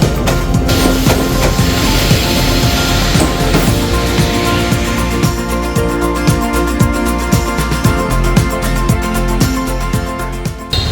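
A train roars past very close and loud, wheels clattering in a steady clickety-clack rhythm over the tracks, with a brief squeal of metal.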